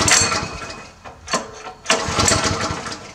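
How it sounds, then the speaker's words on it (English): Seven-horsepower petrol engine on a homemade power hammer is pull-started, sputtering through a few bursts and catching briefly in loud, ragged revs. "Go around, get the 7 horsepower petrol engine."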